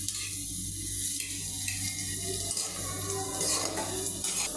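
Snake gourd (chichinga) frying with egg in a pan gives off a steady, close sizzle with occasional stirring scrapes and utensil clinks throughout.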